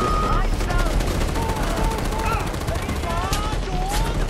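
Rapid AK rifle fire in Far Cry 4 rattles in dense, continuous bursts, with game ambience and a voice's pitched tones weaving through the constant loud din.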